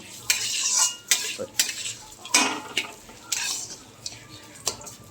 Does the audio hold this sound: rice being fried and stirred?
yes